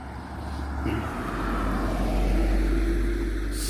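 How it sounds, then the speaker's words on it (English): A car goes by on a rural road beside wide drainage fields near a mine, a low rumbling engine and tire roar swelling steadily over a few seconds, close and continuous with wind noise. "We're going to have a car going by"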